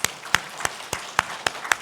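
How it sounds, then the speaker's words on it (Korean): A handful of scattered, separate hand claps from a congregation at a Sunday morning church service, about seven sharp claps in under two seconds, fairly close and not building into full applause. "우리 다 같이 박수로 우리."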